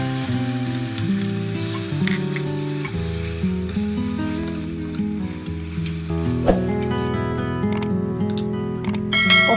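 Finely chopped onions sizzle in hot oil with cumin seeds in a pan while cooking egg curry; a continuous close frying hiss with occasional stirring clatter.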